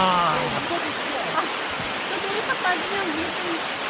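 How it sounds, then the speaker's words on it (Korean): Deungseon waterfall in the Heulimgol valley of Seoraksan, a constant broadband rush of falling water heard close by, with faint voices talking over it now and then. "여러분은 지금 멋진 비경을 가지 등선 폭포를 보고 계십니다."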